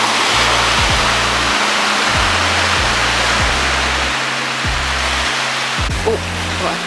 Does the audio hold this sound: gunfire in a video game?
no